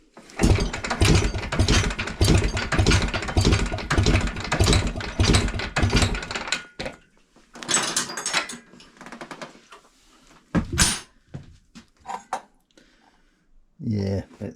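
A Greeves two-stroke motorcycle engine that has suffered a soft seize, revved at wide open throttle in a loud, close burst for several seconds, then dropping to short blips and bursts.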